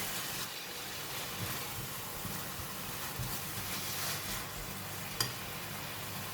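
Dragon beard vegetable and bean sprouts stir-fry over high heat, a soft, steady hiss of frying with faint stirring and one brief metallic tap near the end.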